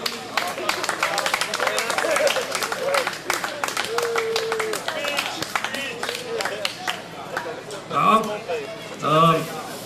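A crowd applauds a winning team at a football marathon, dense clapping under a voice speaking over it, with whoops and cheers rising near the end.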